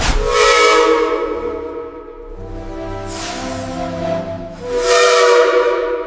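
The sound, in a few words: 1969 E2 class narrow gauge steam locomotive, steam rushing into cylinders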